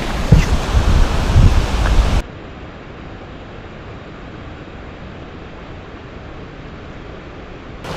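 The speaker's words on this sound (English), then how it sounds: "We've reached the river and I'm sure you can already hear the water." Steady rushing river water at a rafting spot, a loud broadband roar for the first two seconds that then drops to a quieter, continuous wash for the rest.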